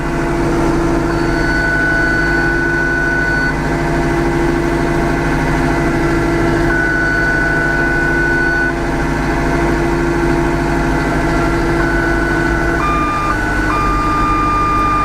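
A tractor engine idles in a steady, loud, continuous drone, with thin tonal beeps sounding on and off over it.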